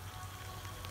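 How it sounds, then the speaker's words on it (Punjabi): Rain falls steadily in a faint, even patter on surfaces, a soft continuous wash of drops with no voices. "ਬਾਰਿਸ਼ ਆ ਰਹੀ ਹੈ, ਬਾਰਿਸ਼ ਆ ਰਹੀ ਹੈ।"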